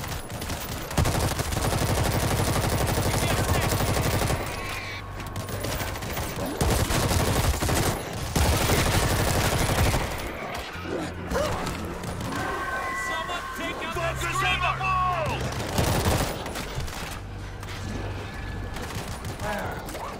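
Bursts of automatic gunfire from a World War Z zombie shooter set in Moscow near the Kremlin, loud rapid volleys coming in repeated waves with short pauses, mixed with game effects and crowd noise.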